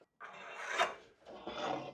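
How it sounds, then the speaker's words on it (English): A pencil is drawn along a straight edge across a wooden board, giving two short, close scratchy rasping strokes in an otherwise quiet room. "I'm going to take a straight edge and draw a line"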